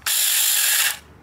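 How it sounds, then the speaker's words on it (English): A small 21-volt lithium cordless chainsaw with a 6-inch bar whirs up loud and close in a single short burst of about a second, then winds down. "You guys check out this little chainsaw I got, man."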